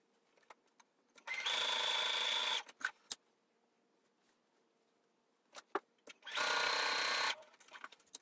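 A domestic sewing machine stitches the side seams of toddler dungarees in two separate bursts of steady, close whirring, with quiet handling noises in the pause between them.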